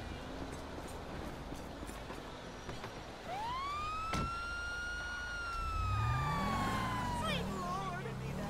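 A police car siren in the video game GTA 5 rises and wails steadily, loud and close, over a busy rumbling background with a voice talking underneath.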